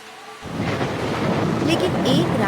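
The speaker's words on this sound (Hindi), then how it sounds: "अचानक तेज आंधी और बारिश ने सब कुछ बर्बाद कर दिया।" Thunder rolls in abruptly after a brief quiet start, then rumbles on loudly over steady rain and gusting wind.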